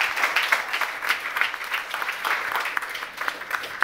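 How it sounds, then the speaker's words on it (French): An audience applauds at a care-foundation panel event, steady crowd clapping with dense overlapping hand claps throughout, moderately loud and without talk. "On l'applaudit."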